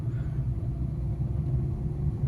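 A car driving in a high gear gives a steady low engine rumble and road noise, constant and unbroken for a couple of seconds with no voices.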